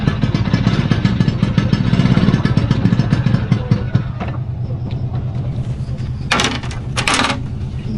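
A motorcycle engine idles and revs close by, its rough low rumble mixed with clattering, with short bright hissing bursts near the end.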